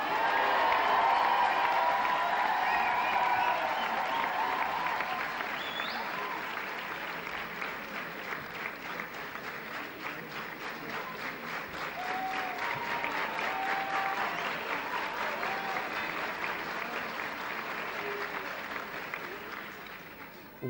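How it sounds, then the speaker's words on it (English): A large audience applauds at a university commencement ceremony, long, sustained, dense clapping that swells and eases over about twenty seconds, with scattered voices and faint cheers mixed in. "Well-deserved special applause."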